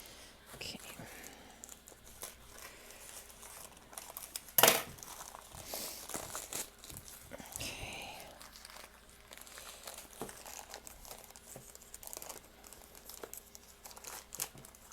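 Crinkling and tearing of a mailed book package's packaging, quiet and close, with a sharp rip partway through and continued rustling.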